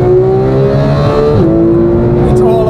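A sports car engine screams at full throttle toward 9,000 RPM, a loud, close, sustained howl with a brief dip in pitch partway through before it holds again.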